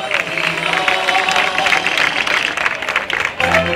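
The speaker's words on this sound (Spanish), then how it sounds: "Así que también vamos a aplaudir a Federica Sández de Dorrego." Crowd applause at a grape-harvest festival (fiesta vendimial) in Villa Nueva, Guaymallén, Mendoza, Argentina, steady and dense throughout, dipping briefly near the end before swelling again.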